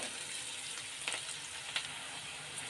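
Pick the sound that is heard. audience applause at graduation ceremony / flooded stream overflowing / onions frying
onions frying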